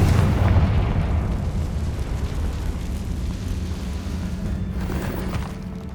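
A Confringo spell in Hogwarts Legacy detonates in a loud, close boom, then trails off into a long, rumbling decay.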